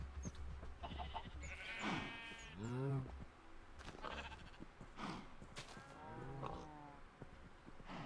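Sheep in Minecraft bleat in several wavering calls at close range, spread across the scene among other animal noises over a low background hum, with no one talking.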